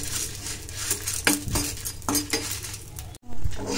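A spoon stirs garlic, urad dal and chana dal roasting in a pan for red chutney, with a sustained frying hiss under repeated metallic clinks and scrapes close by.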